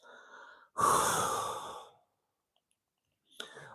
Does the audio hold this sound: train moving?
no